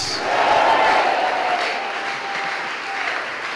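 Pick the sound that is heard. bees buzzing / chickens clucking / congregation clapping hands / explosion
congregation clapping hands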